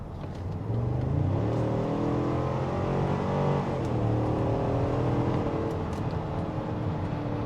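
A 2021 Cadillac Escalade ESV with a V8 pulls hard in sport mode, its engine note a loud, steady drone that climbs in pitch over several seconds, with no talking.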